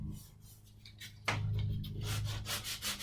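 Close, steady rubbing strokes scrub old green paint off a wooden bed storage chest, quiet at first, then louder, continuous scraping with a rhythmic back-and-forth pulse.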